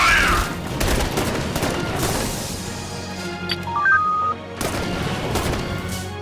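Aircraft turret gunfire in the Halo video game: loud, dense bursts of rapid shots with booming impacts, broken by a brief lull and a few electronic beeps before firing resumes.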